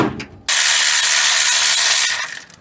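A ratchet wrench clicks rapidly and loudly at close range while a bracket is loosened during car repair work on an A/C compressor area, a steady burst lasting about two seconds before tapering off.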